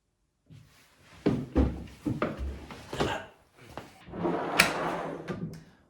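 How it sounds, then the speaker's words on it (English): Barbecue drawer in a camper van being worked by hand, a series of sharp wooden slides, knocks and clunks spread over several seconds, close and fairly loud with no talking. "Our newly configured barbecue drawer features this removable top panel that doubles as a work surface and storage for your camping stove."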